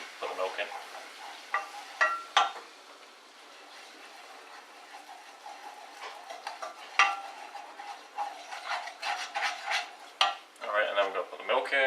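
Flour, salt and pepper stirred in a pan for macaroni cheese, a long run of close scraping and clinking utensil strokes over a soft sizzle, irregular and busy throughout.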